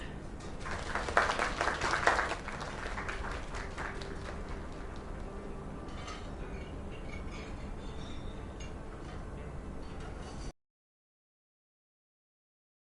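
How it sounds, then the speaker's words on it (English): Crowd applause in the game Lake, a burst of clapping that swells early and then settles into steady, dense applause before cutting to silence. "Another round of applause"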